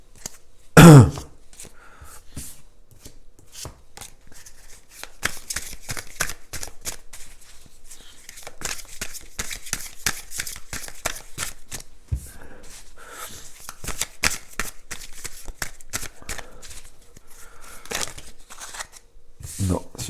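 Tarot cards shuffled by hand up close, a quick series of crisp, papery riffling bursts repeating steadily for the whole stretch after a single loud thump near the start.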